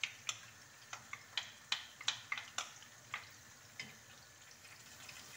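Half an onion, chopped into small pieces, frying in a pan with a little oil: faint irregular crackles and ticks with a soft sizzle underneath, quiet and close, no voices.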